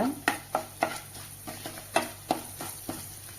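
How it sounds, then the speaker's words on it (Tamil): A spoon stirs rava paniyaram batter with cumin in a bowl, making a steady run of crisp scraping strokes roughly every third of a second, close and clear with no talking. "அதுவும் நல்லா கலந்து கொடுங்க"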